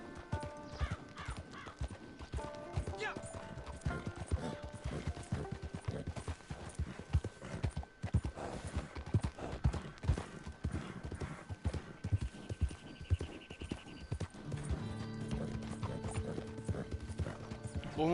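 Horse hooves clip-clop in a steady, rapid rhythm in a video game, with occasional neighing and mechanical game sounds layered over the galloping, which continues throughout at moderate loudness.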